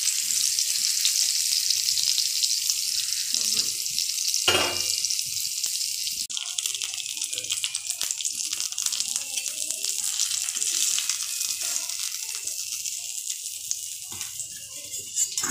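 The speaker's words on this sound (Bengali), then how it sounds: "বেগুন ভাজা আমার মোটামুটি হয়ে গেছে।" Eggplant (brinjal) slices frying in oil in a home kitchen, a continuous bright sizzle and crackle with a clatter of a pan or utensil partway through, faint voices in the background.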